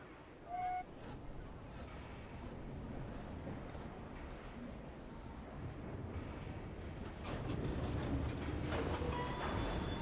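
A steam-era train in Victorian London in Assassin's Creed Syndicate rumbles steadily with a rolling, rattling undertone, a brief whistle-like tone near the start and the noise growing slightly louder toward the end.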